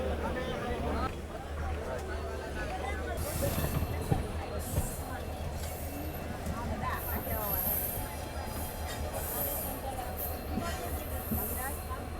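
Rumble of a train rolling slowly out of Surendranagar Junction station in Gujarat, India, with wheel noise and faint squeals, while people chatter in the background throughout.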